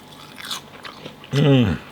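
A single crisp crunchy bite into crispy duck confit skin lands near the start amid quiet handling, followed by a voice reacting.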